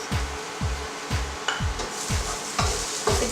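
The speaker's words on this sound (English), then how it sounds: "Next up, add in that curry paste and mix it around really well." Green curry paste with lemongrass stirred in a pan: a close, steady run of about seven rhythmic scraping strokes across the metal, each with a low thud and a light sizzle, and no talking.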